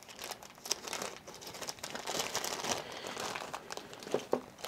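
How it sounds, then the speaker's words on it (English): Close, continuous crinkling and rustling of a plastic bag as a helmet intercom boom mic is tucked back inside, with a few sharper crackles toward the end and no talking. "So we'll put the boom mic back in the bag."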